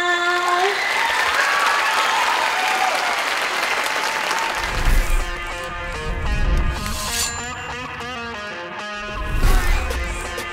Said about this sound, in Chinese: 掌声欢迎阿张老师进阶公演吧